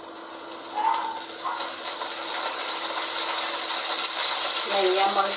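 Mustard seeds, cumin and curry leaves sizzle in hot oil in a pan for Gujarati poha, a steady, moderately loud hiss that runs throughout, with a few brief sharper crackles near the end.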